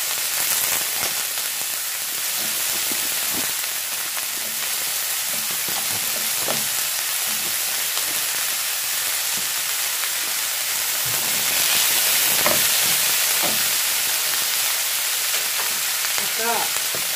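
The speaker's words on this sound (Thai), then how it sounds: "ผัดจนผักสุกเนาะผักนิ่มนะคะจะใส่ไส้กรอกลงไปนะคะ" Vegetables and sausage stir-fry in a pan for noodles in gravy, giving a loud, close, continuous sizzle broken by the scrapes and clacks of stirring.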